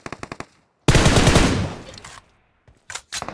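Loud automatic gunfire in the mobile game BGMI, a quick string of sharp shots followed by a heavy burst that rings out, then a few more clipped shots after a short gap.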